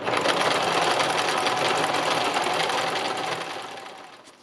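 A sewing machine runs in free-motion stitching on fabric, a steady, close, continuous whirring hum that holds level for about four seconds before easing off at the end.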